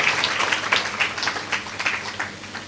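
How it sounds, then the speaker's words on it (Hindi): A crowd at a Shrimad Devi Bhagwat Katha religious discourse claps in a moderately loud, uneven patter that swells and dips without a clear rhythm. "हाँ, अब ताली बजाइए आप"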